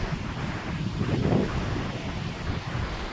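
Sea waves wash in steadily at Kanyakumari while wind rumbles across the microphone, one swell building briefly in the middle, close and continuous with no voices.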